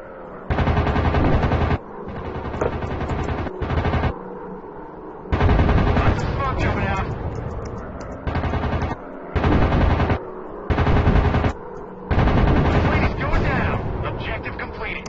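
Rear machine guns of a WW2 warplane firing in the Warplanes WW2 Dogfight video game, loud repeated bursts of rapid gunfire separated by short pauses, with engine noise between bursts.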